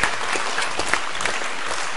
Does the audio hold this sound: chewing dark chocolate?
no